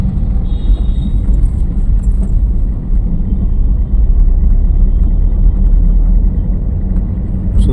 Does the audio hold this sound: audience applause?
no